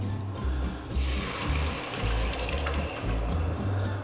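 Soupy arrabbiata sauce pours into a hot pan of caramelized vegetables, giving a steady wet sizzle and bubbling hiss that swells and eases in pulses, close and fairly loud with no talking.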